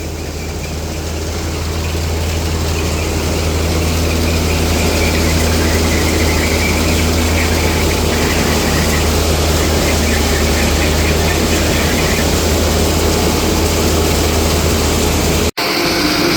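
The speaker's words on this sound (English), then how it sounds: "it's chopping again" A forage chopper cutting corn silage: a loud, steady machine roar with a low engine hum and a high whine, running continuously before a brief cutout near the end.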